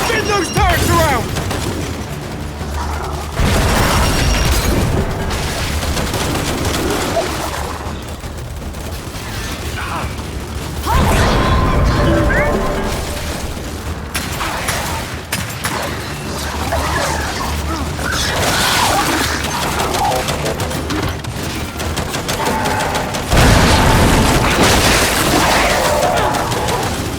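Turret gunfire and explosions in the Gears 5 campaign battle, with dense bursts of automatic fire and heavy blasts booming in loud waves alongside shouted voices.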